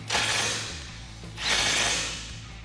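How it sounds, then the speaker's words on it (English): An 18mm socket ratchet tightens tire carrier bolts with larger washers on a Jeep Wrangler JK tailgate: two close, loud bursts of rasping ratchet strokes separated by a brief pause. "Grab your 18mm socket and tighten these down."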